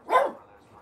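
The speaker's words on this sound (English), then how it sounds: "barking at the CTFxC vlog that's on the TV." A dog barks once, loud and close, at something playing on a TV; a short sharp bark fades into quiet room tone.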